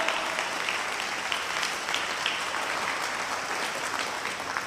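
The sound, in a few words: congregation clapping loudly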